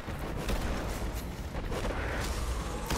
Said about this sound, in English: Quit shooting at us.